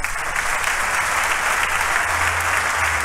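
A congregation at a thanksgiving church service claps in steady, dense applause, a loud, even wash of many hands that carries on without a break for three seconds.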